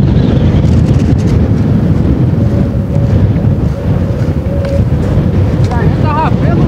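Strong wind roars steadily into the microphone beside water during tilapia fishing with a cast net, a loud continuous low rumble, with voices talking under it.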